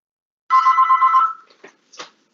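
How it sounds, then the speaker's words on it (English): A single loud, close telephone ring sounds during an online school board meeting, a bright tone of about a second, followed by a couple of brief faint clicks and noises. "my phone just rang"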